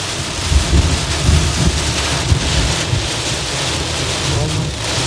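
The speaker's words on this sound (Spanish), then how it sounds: "esta tormenta solo tarda 10, 15 minutos y ya para" A thunderstorm in Morehead, Kentucky brings heavy rain and gusting wind, a loud steady wash with low rumbles and wind buffeting the microphone.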